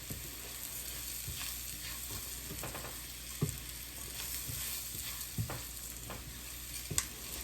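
Rice grains toasting in a pan for mushroom Parmesan risotto give a steady, soft sizzle with occasional sharper clicks and scrapes of stirring, close and moderately quiet, with no talking.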